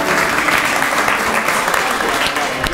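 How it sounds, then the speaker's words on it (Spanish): Dense, loud applause from an audience after an architecture lecture and dialogue, sustained and even throughout with no gaps. "un aplauso"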